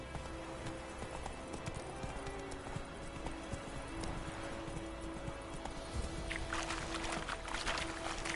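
Roach the horse galloping in The Witcher 3, a quick rhythmic clip-clop of hooves running under faint game ambience, with a few brighter rustling bursts near the end.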